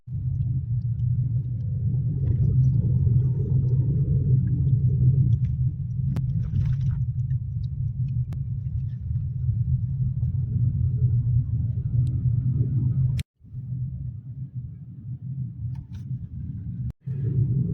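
Car on a broad mountain road descending toward Badrinath, its steady low rumble continuous and fairly loud, with a couple of brief sharp clicks near the end.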